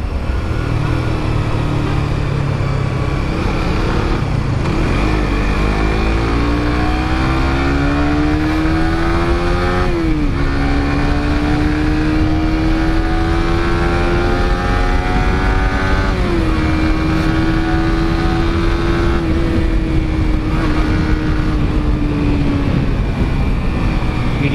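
Engine of a new Yamaha motorcycle succeeding the Byson, heard on a test ride, revving up steadily through the gears with a rising whine that drops at each shift, loud and continuous with wind rush throughout.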